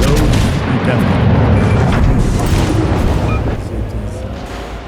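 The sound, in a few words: torpedo explosions in video game World of Warships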